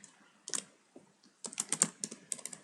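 Quiet clicking of computer keyboard keys, a few isolated taps followed by a quicker burst of typing, close and soft with no other sound.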